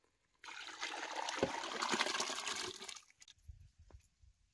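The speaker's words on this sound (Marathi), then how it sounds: "आता या आळणी पाणी यात वतायचं." Stock water poured into Kolhapuri mutton curry cooking on a wood-fired stove, a steady splashing pour for about two and a half seconds, followed by a few faint bubbling drips.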